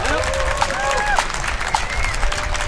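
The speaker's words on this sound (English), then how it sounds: "a nice round of applause" Steady applause from a crowd at a Maxville pipe band competition fills the whole stretch, mixed with background chatter and a few faint whistling tones.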